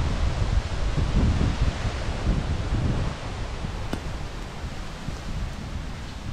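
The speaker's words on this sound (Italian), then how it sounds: "sentite che vento." Gusty wind buffets the microphone with rumbling low roars in a mixed Turkey oak wood, strongest at first and easing slightly later, with rustling in the background.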